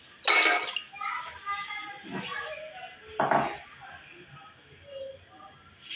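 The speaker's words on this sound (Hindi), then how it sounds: "देखिए, पानी डाल दिए। मैंने गोश्त के अंदर बॉयल करना है।" Water poured into a pot of desi chicken meat on the stove for boiling, a couple of short splashing gushes over a quiet kitchen background.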